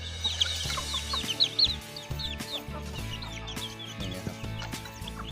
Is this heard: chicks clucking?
yes